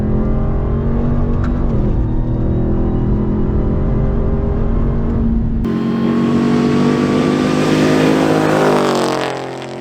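A pickup truck's engine roars steadily at speed, climbing in pitch as it accelerates hard, then easing off at the end.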